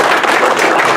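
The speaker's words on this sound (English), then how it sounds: "how about another big round of applause?" Audience at a small-town board meeting in Boston, New York, clapping: a brief, dense, steady burst of applause filling the whole second, fairly loud and close.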